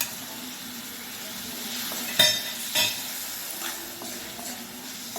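Oysters being stirred into a simmering potato curry in a pan, with soft steady bubbling and a couple of sharp utensil clinks against the pan near the middle.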